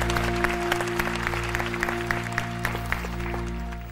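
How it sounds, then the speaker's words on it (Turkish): Studio audience applause on a bride-and-mother-in-law game show, a bright spatter of many claps with a few sharper hand strikes standing out over a steady background of sustained music. "Alisa'ya çok güçlü bir alkış."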